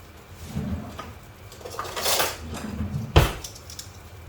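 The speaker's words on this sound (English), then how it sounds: "I'm just going to now make sure that the rice is now mixed with the mutton" Cooked long-grain rice is mixed with mutton in a pot for a khabsa, giving soft scraping and clinks of a spoon against the metal, with one sharp knock near the end.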